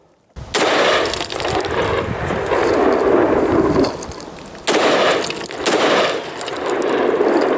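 A rifle fires 5.56 ammunition at an outdoor range, two loud blasts each followed by a long rumbling, washing roar that fills the clip.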